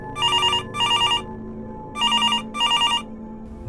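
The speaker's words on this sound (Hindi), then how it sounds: "फोन बजा" A telephone bell rings loudly in two pairs of electronic trills, with a short pause between pairs, and no voices.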